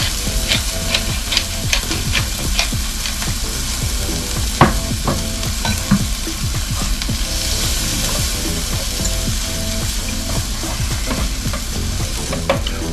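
Vegetables sautéing on a flat griddle, seasoned with pink Himalayan salt and black pepper for a breakfast omelette, give a steady close sizzle and fry with repeated scraping and stirring clicks throughout.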